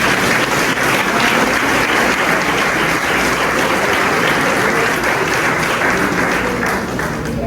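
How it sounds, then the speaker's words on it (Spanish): A church audience gives a loud, sustained round of applause, a dense, even wash of many hands clapping throughout, with no break and no voices rising above it. "Den un aplauso a esos hombres obedientes"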